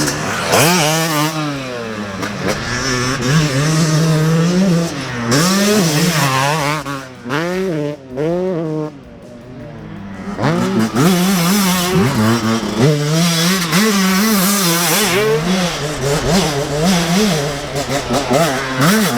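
Two-stroke dirt bikes, a 2024 Yamaha YZ125X and YZ250X, ridden on trails, with engines revving up and down in repeated rising and falling bursts, loud and close, easing off briefly midway.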